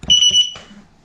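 A 16X electric unicycle beeps a loud, steady high-pitched alarm tone for about half a second after a crash, with lower rattling clicks under it, then fades to quiet rustling.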